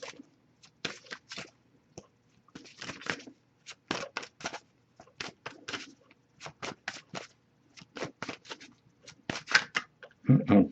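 Tarot cards being shuffled by hand in bursts of quick riffling and slapping, close and crisp, with short quiet gaps between rounds.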